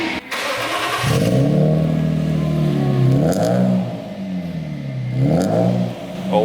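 A Honda Accord's cold engine runs and revs up and down in several swells, loud and close, with a brief rattle at the start.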